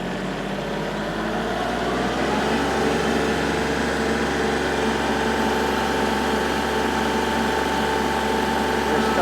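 A tractor engine is revved up to full RPM while a loader lifts a heavy load; a loud, steady drone climbs in pitch over the first few seconds and then holds.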